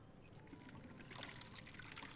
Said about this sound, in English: I'd like to refill my water.